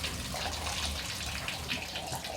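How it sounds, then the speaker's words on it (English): Bathtub faucet running brown water in an old house under repair, a strong, steady gush of water pouring loudly and continuously into the tub, with no voices. "is the brown water going to come out?"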